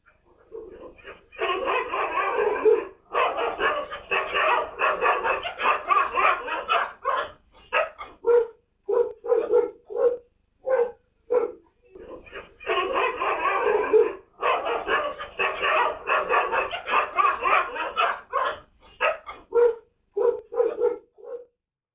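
A pack of stray dogs barking loudly and continuously in overlapping bursts, with yips and short gaps, close by and persistent.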